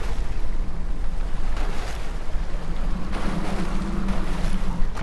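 Rushing water from a waterfall in the video game Child of Light forms a loud, churning wash with gusty surges and a faint low hum beneath.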